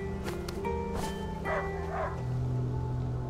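A dog barks several times in quick bursts in the video game A Plague Tale: Innocence, moderately close, over a steady electronic background hum with a faint tonal drone.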